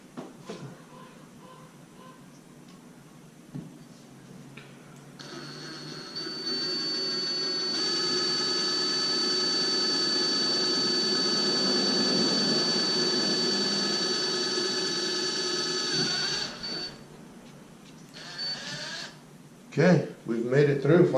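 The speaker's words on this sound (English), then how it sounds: "this drill bit right here, the one I'm using, it is a 1/16." A drill with a 1/16 bit bores into a 4L80E transmission direct drum, a steady high whine running for about ten seconds after a brief start, then stopping, with quiet handling noises before and after.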